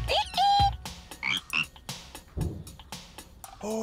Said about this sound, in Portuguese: Achou o nosso sapo fujão.